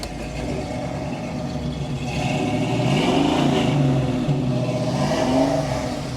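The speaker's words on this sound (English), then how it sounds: "rev the engine for me, sir" A 1965 Ford Mustang Fastback restomod with GT trim revs its engine nearby, a deep idle rising into a couple of throaty swells before settling back, with no talking.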